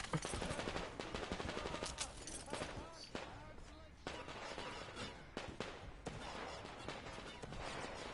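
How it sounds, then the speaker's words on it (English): A machine gun fires in rapid bursts in a video game, dense crackling volleys spread across the clip amid busy game sounds. "That is a machine gun."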